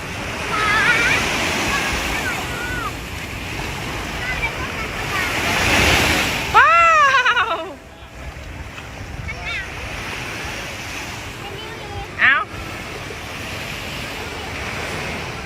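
Sea waves wash and break on a beach at Bang Saen in a broad, steady rush that swells louder, then a sharper splash cuts in before the surf settles back, with children and adults talking and calling over it.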